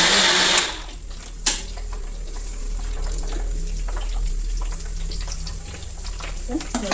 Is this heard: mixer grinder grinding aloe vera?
yes